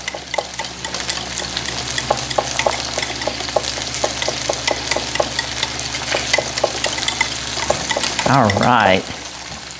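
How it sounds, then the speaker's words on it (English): Thin pork chops browning in a pan, giving a steady frying sizzle with scattered crackles and pops throughout, brief stirring or scraping near the end, and a voice speaking briefly. "we're browning these pork chops and they will not take long"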